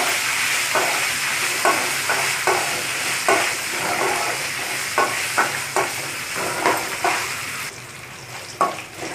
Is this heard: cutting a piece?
no